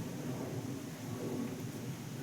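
Steady rain falls outdoors beside a pond or water where people are fishing for koi (climbing perch), a continuous soft broadband patter with no talk, even and unbroken throughout.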